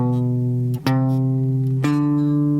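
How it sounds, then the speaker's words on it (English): Electric guitar playing a minor scale slowly, three clear sustained notes in sequence with crisp picked attacks and long ringing tails, loud and up close, no voices. "And now the whole scale, I'm going to play it first slowly and then quickly."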